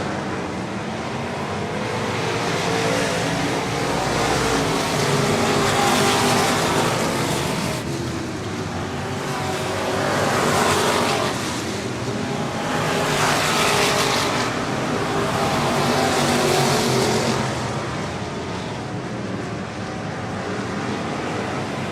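Dirt-track race cars at Cotton Bowl Speedway roar around the oval in a loud, continuous engine drone that swells and fades as the pack passes in waves, with no voices heard.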